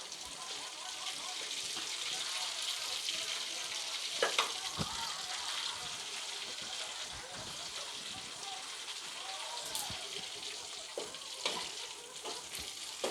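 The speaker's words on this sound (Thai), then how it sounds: "ทอดเนื้อทอดเนื้อให้สุกก่อนนะทุกคนนะ" Sun-dried beef frying in a pan, a steady dense sizzle with occasional sharp pops and crackles throughout, close and continuous.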